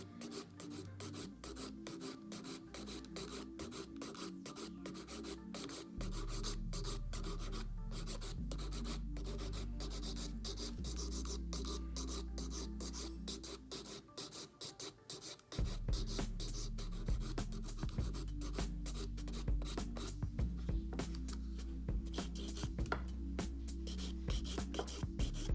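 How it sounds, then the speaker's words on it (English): Basic hand file rasping firmly against a plastic acrylic nail tip, a close, continuous scratchy rhythm of rapid back-and-forth strokes that grows louder partway through, with no talking. "I would prefer not to use this file because of the grit, and I'll just use a basic hand file like this."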